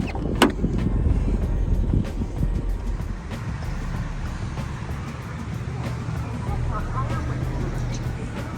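A Mercedes SL55 AMG with a coilover conversion out on a drive: low engine and road rumble mixed with buffeting wind noise, plus faint muffled voices in the cabin.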